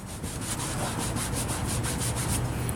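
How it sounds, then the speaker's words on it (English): Excess Mothers Back-to-Black trim restorer being wiped off plastic car trim, a steady run of close, rhythmic rubbing strokes of cloth on plastic, with no talking. "We're going to go ahead and wipe off this excess and see what it does."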